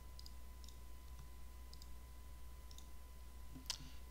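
Computer mouse clicks and key presses while working in Blender, with several sharp, quiet clicks spaced about half a second apart over a low steady hum, one louder tap near the end.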